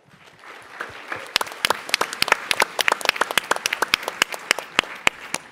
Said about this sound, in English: an extra clap for me for ending on time